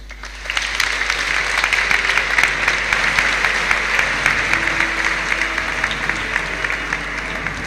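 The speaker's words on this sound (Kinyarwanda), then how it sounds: "mumuhaye amashyi n'impundu" An audience at a formal ceremony, following an oath-taking, breaks into sustained clapping that starts abruptly and continues as a dense, even applause for several seconds.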